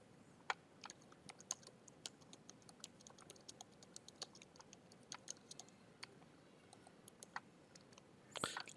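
Light typing on a computer keyboard, scattered quiet key clicks in an uneven rhythm over a faint background hiss, with a slightly louder cluster of keystrokes at the end.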